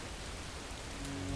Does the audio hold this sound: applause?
no